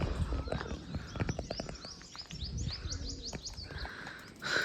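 Birds call at Willingdon Dam near peacocks and pigeons, with a run of repeated chirps and calls over rustling and handling noise, fairly close and with no speech.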